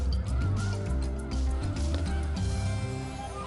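Thousands of migrating snow geese stopping over in Delta, Utah, heard as a dense, continuous chorus of honking calls from a large flock, loud and layered throughout with no talk.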